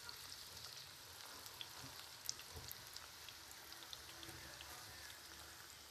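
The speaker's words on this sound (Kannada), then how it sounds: "ಇವಾಗ ನಾವು ಬೆಂಡೆಕಾಯಿ ಕುರ್ಕುರೆ ಮಾಡ್ಕೊಳ್ಳೋಕೆ ರೆಡಿ ಮಾಡ್ಕೊಳ್ತಾ ಇದೀವಿ. ಹಾಕೊಳ್ಳೋಣ ಎಣ್ಣೆಗೆ." Okra kurkure frying in hot oil gives a steady, soft sizzling hiss with scattered tiny pops, constant throughout and fairly quiet.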